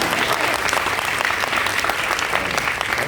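A talk show audience applauds in a dense, steady burst of clapping that fills the hall for about three seconds.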